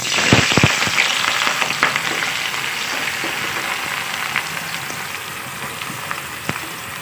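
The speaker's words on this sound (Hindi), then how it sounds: "अब इसमें ये प्याज लाल करूँगी।" Loud, crackling sizzle of onions frying in hot mustard oil, with sharp pops and spatters over a constant hiss, close up.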